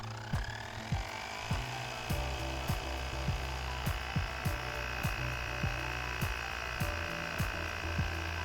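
An AUXITO A301 portable tire inflator pumping up a ball through an inflation needle, a steady close mechanical hum with a regular rapid pulsing rhythm from the compressor, running continuously without talk.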